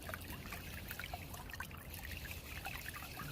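Water and gravel pour steadily through a Recon fluid bed sluice during gold prospecting, a continuous rushing trickle and wash heard close and unbroken, with no talk.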